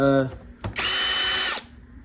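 A power drill set to its lowest setting unscrews an Xbox Series S. A voice is heard briefly, then a short motor burst, then a sustained high whine for about a second before it stops.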